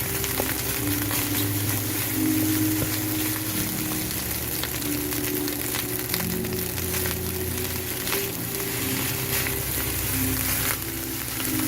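Rice sizzles and fries in a Breville electric wok, giving a steady, close crackling hiss with small pops that continues throughout.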